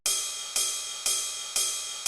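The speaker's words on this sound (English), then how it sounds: "It's classic cymbal sound." A ride cymbal sample from a drum rack in a house music beat strikes four times at an even pace, each hit bright and washy and decaying before the next, placed slightly off the grid.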